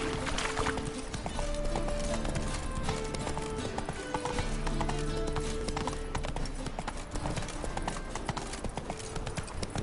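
Roach, the horse in the video game The Witcher 3, galloping, with a rapid steady clip-clop of hooves running continuously over game ambience, close and fairly loud.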